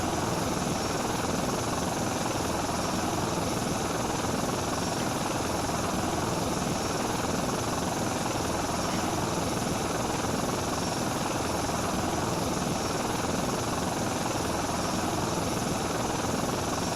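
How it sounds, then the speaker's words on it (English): Steady, loud surveillance helicopter rotor drone in a video game, with a constant engine whine, unbroken for the whole stretch with no talking. "we're in a surveillance helicopter"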